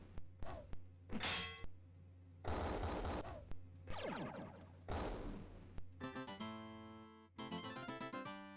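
The Lute of Missiles is played as an instrument in the Wizardry 7 computer game, setting off a string of loud clanging, zapping spell bursts and rattling impacts, ending in chiming, stepped electronic tones.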